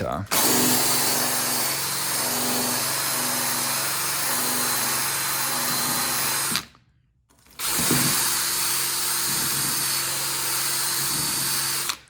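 A power drill whines steadily while stripping rust from a 1968 Thunderbird body down to bare metal, running loud and close, cutting out briefly midway before starting up again.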